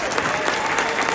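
Dense audience clapping at a libertarian gathering in Reno, a close, continuous wash of many hands with no gaps, loud and even throughout.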